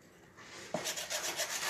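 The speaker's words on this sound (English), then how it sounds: "I'm just going around and scuffing it up a little bit more." A wooden surface on a three-tier shelf is scuffed with a few quick back-and-forth rubbing strokes. After a short quiet start the rubbing comes close and soft, with no talking.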